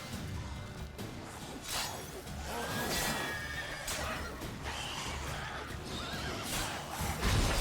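A horse neighs and whinnies in The Witcher 3: Wild Hunt amid clattering hooves and crashing combat noise, loud and close throughout.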